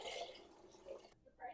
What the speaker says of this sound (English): Now I have 4 cups of fresh filtered water, no vinegar. I'm going to add that right in.